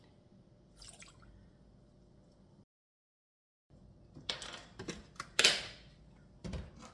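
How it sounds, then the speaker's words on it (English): Salad dressing for a corn chip salad is poured into a bowl: faint quiet handling, a brief pause, then wet glugging splashes and drips, close by and without speech. "just pour that in"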